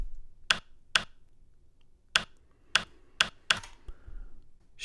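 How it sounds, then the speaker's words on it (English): A typing sound sample triggered on a Polyend Tracker: six crisp, isolated keyboard clacks in an uneven rhythm, close and clean against near silence. "It is the typing sound, and we can listen to a little bit of that."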